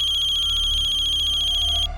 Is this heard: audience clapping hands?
no